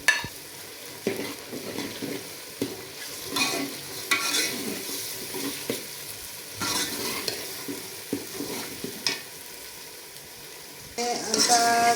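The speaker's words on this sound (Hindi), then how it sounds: "हल्का सा किया जी लहसुन अदरक का पेस्ट ब्राउन सा" Ginger-garlic paste fries with onions in a pot for chicken biryani, a soft continuous sizzle under repeated close scraping and clattering strokes of a spoon against the metal, with a louder clink near the end.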